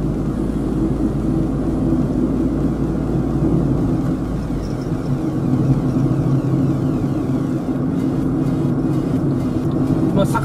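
A Suzuki Alto Works engine drones loud and steady as the car pulls uphill, with a low continuous rumble heard from inside the cabin and no clear break for a gear change.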